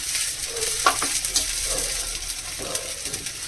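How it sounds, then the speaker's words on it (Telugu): Sago khichdi frying in a pan while being stirred: soft continuous sizzle with scraping, clinking spoon strokes at close range, no talking. "ఇవి బాగా ఏగేటట్టు మనం కలుపుకోవాలి, అవి వేగుతూనే ఉంటాయి"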